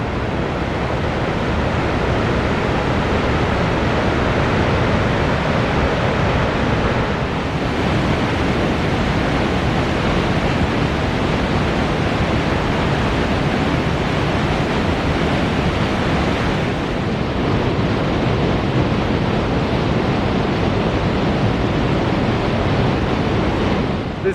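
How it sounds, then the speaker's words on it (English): Lake Creek pouring down falls beside the Beartooth Highway: a steady, loud, full rushing roar of water that goes on unbroken, with no voices. "And here's the creek going down."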